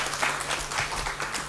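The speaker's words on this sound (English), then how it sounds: "So give her a round of applause." Scattered clapping from attendees at a residential refresher course on RERA, redevelopment and housing society management, a short burst of mid-level applause with no talk over it.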